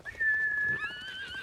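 A horse in the Ghost of Tsushima video game lets out a long, high whinny that wavers and trails off over about a second, close and loud with no talking.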